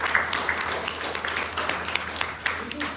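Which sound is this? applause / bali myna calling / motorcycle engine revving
applause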